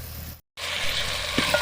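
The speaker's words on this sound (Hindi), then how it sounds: "अब टमाटर को सॉफ्ट होने तक हम इसको कुक करेंगे" Tomato and garlic sizzle and fry in a pan for a chicken potato curry, a steady close hiss broken by one brief silent gap, with a faint soft stir near the end.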